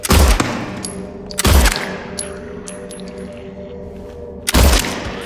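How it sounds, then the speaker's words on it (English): Video game gunfire, three heavy booming shots spaced a couple of seconds apart, each loud and close with a ringing tail between them. "It's not like I'm shooting wildly and missing a bunch."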